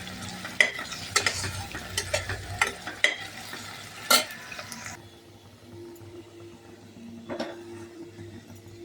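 Onions sautéing in a pan until golden brown for chicken biryani: busy scraping and stirring clatter over a sizzle for the first half, then a quieter steady hiss with a single clack.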